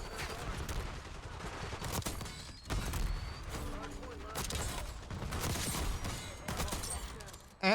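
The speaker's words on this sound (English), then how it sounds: "This shotgun is vile." Shotgun blasts in Black Ops 6, loud broadband bursts repeating every second or so amid constant in-game noise and action, close and harsh with a final sharp hit at the end.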